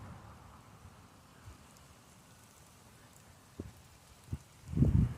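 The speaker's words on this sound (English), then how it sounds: "It is going to rain, and it is raining." Steady rain falling outdoors during a tornado warning, a soft continuous patter with a few louder drops or knocks near the end.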